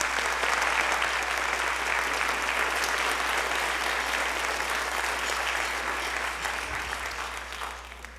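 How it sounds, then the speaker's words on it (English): An audience at a junior high school spring band concert claps steadily in a full, continuous wave of applause that slowly fades in the final seconds, with a low hum beneath. "So can we please give him a round of applause?"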